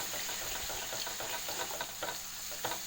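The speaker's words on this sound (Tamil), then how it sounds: "இஞ்சி பூண்டு விழுது வாசம் போகிற வரையும் நல்லா வணக்கி இருக்கணும்." Ginger garlic paste frying in a pan for fish thokku, giving a steady close sizzle and hiss with faint stirring scrapes throughout.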